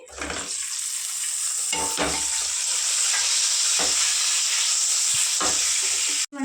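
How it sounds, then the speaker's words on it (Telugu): Eggs fry in oil seasoned with turmeric and salt, a loud, close, steady hiss and crackle broken by a few stirring scrapes, ending with a sudden brief cut and jump. Nobody talks. "చిటికెడు పసుపు, కొంచెం అంతా సాల్ట్ వేసుకొని ఎగ్ ఫ్రై చేసుకుందామండి."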